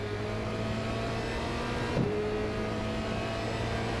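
A steady, droning Formula Renault 2.0 race car engine in the iRacing sim at Zolder Circuit hums continuously at an even pitch, with a brief bump midway, close and fairly loud with no talking.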